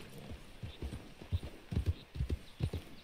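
Horse hooves clip-clopping in Red Dead Redemption 2, a series of close, loud hoof thuds in an uneven trotting rhythm over quiet background.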